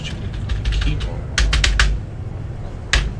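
Typing on a computer keyboard in the space game Starfield, fast bursts of clicky keystrokes, loud and close, with a pause between runs and a final few taps.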